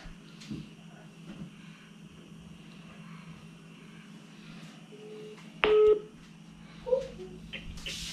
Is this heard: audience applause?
no